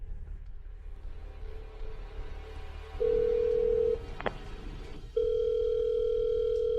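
A telephone ringback tone sounds in two long steady beeps separated by a pause, over a low background rumble.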